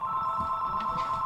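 A telephone rings with a steady electronic tone that holds throughout, moderately loud and close, with faint background noise beneath it.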